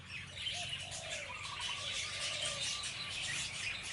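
Several soft bird chirps and short warbling calls over quiet background hiss, fairly faint and scattered across a few seconds.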